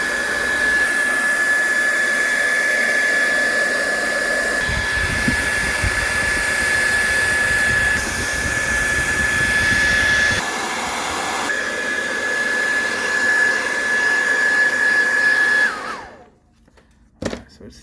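Heat gun blasting hot air onto the back cover of a Redmi Note 8 Pro, a loud continuous whooshing roar with a high whine that shifts slightly, then cuts off abruptly, followed by a few soft handling knocks.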